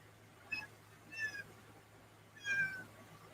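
A house cat meows three times in short, separate calls, moderately close but fairly soft, against a quiet indoor background with no talking.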